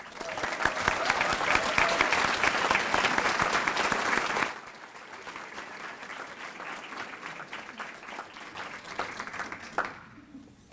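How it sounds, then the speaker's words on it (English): A large audience at a college service awards ceremony gives retirees a sustained round of applause, loud and dense at first, then thinning to scattered clapping before fading out. "just give all of our retirees a real round of applause"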